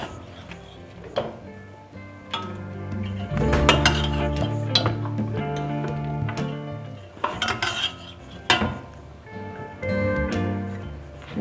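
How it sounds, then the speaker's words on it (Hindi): Cooked chicken going into a biryani pot: close, loud metallic clanks and scrapes of a spoon against the pot, with bursts of heavier clattering and a steady background rumble, no speech. "अब ये हमने जो चिकन बनाया हुआ ये हम अब ऐड कर रहे हैं"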